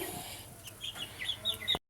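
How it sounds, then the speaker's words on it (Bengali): Egyptian Fayoumi chickens in a two-storey poultry farm, with soft clucks and short calls repeating through a close, fairly quiet barn hum. "এগুলো হচ্ছে মিশরীয় ফার্মি মুরগি"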